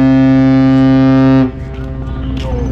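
Deep, loud blast from a large container ship's horn at Quy Nhon port, one sustained tone lasting about a second and a half before cutting off into harbor background noise.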